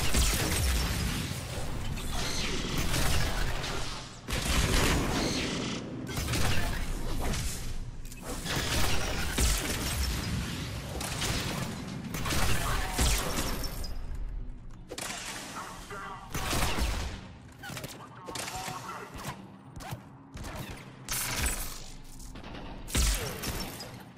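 Fire explosions and siege pulse blasts from Mass Effect 3 gameplay with a Geth Juggernaut, coming as repeated bursts, pops and crashing impacts in uneven clusters, dense and loud throughout.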